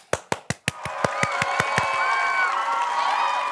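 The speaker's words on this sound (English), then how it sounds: "let's give a big round of applause for the So-and-So Show players." Loud, evenly spaced group claps, about ten in a row, give way to cheering and whooping from an audience of children and adults at a school-age church program, then the cheering continues as a steady crowd roar.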